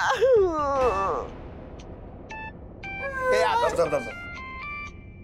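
A telephone rings with a repeated electronic tone in short bursts, mixed in with emotional voices speaking and groaning.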